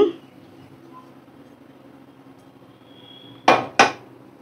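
Fish jhuri made from bele fish being plated and served, with two sharp dish or utensil clatters close together near the end after a quiet stretch.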